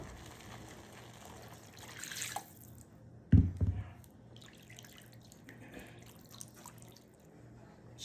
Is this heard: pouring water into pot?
yes